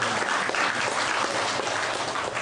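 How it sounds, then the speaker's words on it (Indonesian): Audience applause at a talk, a dense steady wash of many hands clapping at a fairly loud, even level for a couple of seconds. "Tepuk tangan."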